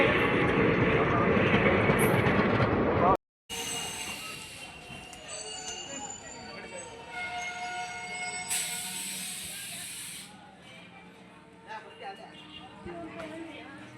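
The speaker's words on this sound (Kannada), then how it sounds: "ಈಗ ಬಂದು ನೋಡ್ರಿ ತುಮಕೂರು ರೈಲ್ವೆ ಸ್ಟೇಷನ್. ಇಲ್ಲೊಂದು ಟ್ರೈನ್ ಹೊಂಟದ." A train departs Tumakuru railway station with a low rolling rumble, faint wheel squeals and metallic clatter drifting through the station while people talk nearby.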